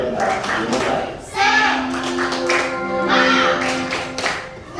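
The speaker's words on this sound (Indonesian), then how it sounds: "Ayo tepuk semangat dulu." A school class claps out a rhythmic spirit clap in a classroom, mixed with children's voices chanting along and a teacher talking over the claps.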